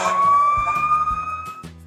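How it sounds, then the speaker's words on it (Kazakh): A fire engine siren wails alone, a loud electronic tone sliding upward and repeating in a steady cycle with a low pulsing horn-like throb beneath. "Дұрыс жауабы өрт сөндіру көлігі."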